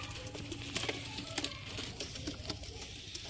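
Sialkoti pigeons fluttering and shuffling nearby, quick faint pattering wingbeats and taps over a low hum, with no voices.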